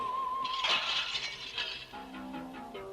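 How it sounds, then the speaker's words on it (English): A king's wine glass bursts under shrill notes in a fantasy tale, giving a single sharp shatter followed by tinkling fragments, set against a sustained tone and musical backing. "When the shrill notes vibrated against the king's wine glass, however, the effect was explosive."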